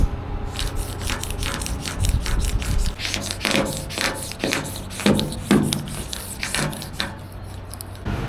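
A tool is run repeatedly over a catamaran surface crusted with old epoxy and black gel, making close, rhythmic rasping strokes, about a dozen rough scrapes in a steady back-and-forth.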